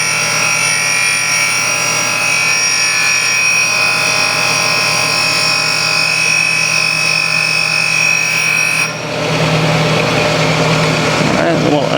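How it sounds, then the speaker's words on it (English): Engine valve from a GM 5.3 V8 being ground on a valve grinding machine, a loud, steady high-pitched whine and hum of the spinning wheel that shifts to a rougher grinding texture near the end. "I'm slowly going to advance that wheel towards the grinding, or the valve towards the grinding wheel"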